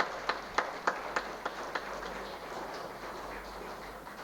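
Audience applause for Corona warriors at an Independence Day celebration, a few sharp separate claps at first that thin into a faint, scattered patter under room hum.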